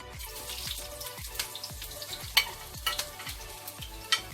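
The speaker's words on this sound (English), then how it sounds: "I'm gonna add my garlic in." Garlic sizzles in a pan alongside bell pepper, tomato, scallion and thyme, with a utensil scraping and stirring in a steady rhythm of soft knocks over the continuous frying hiss.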